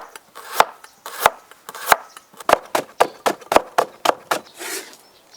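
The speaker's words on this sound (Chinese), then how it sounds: "小白菜切碎， 胡萝卜切丝儿" A knife chopping bok choy and carrots on a board, about a dozen crisp, separate strikes in an uneven but steady rhythm, close and loud with no voices.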